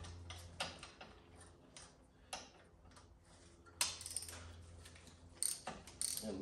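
Ratchet with an extension and 5/8 spark plug socket working a spark plug loose on a 2001 Audi A6 2.7T, giving faint clicking and ticking bursts at irregular intervals over a low steady hum.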